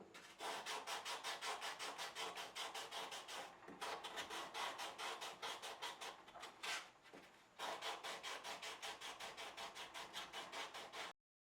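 Hand sanding inside the finger grooves of a wooden knife handle with a 1 1/4 inch dowel, rhythmic back-and-forth rasping strokes in steady bursts, close and loud, ending abruptly.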